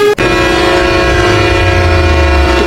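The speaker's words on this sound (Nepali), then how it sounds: "त्यसपछि हाम्रो सेकेन्ड हर्न," The second bus horn from a Nepali traffic mod in the Bus Simulator Indonesia video game blasts as one loud, sustained multi-tone note for about two and a half seconds, with nothing else heard.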